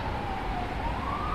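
A siren wails faintly in the background, one sustained tone sliding slowly down and then back up over a steady wash of low traffic rumble.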